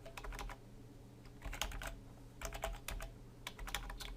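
Typing on a computer keyboard while writing PHP code, quiet irregular bursts of key clicks with short pauses, close and alone.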